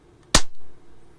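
A pre-pumped SMK PP700W air rifle fires an 18 grain Diablo pellet, a single sharp close crack followed by a short dull thud and faint trailing noise, heard alone.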